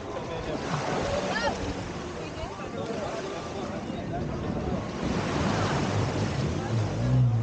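Ocean waves wash onto a beach at Cozumel in a continuous, fairly loud surf roar, with wind buffeting the microphone and faint voices heard in the background.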